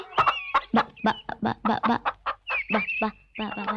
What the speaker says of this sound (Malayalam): എന്നാ വലിപ്പമായ കോഴിക്കൊക്കെ!